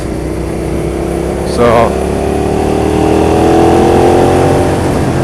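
A Suzuki SV650S motorcycle engine drones steadily while being ridden, its loud hum rising gradually as the bike accelerates, with someone speaking briefly over the noise.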